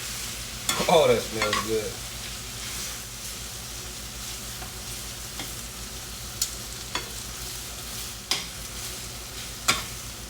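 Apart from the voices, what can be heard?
ground beef sizzling and being stirred in pan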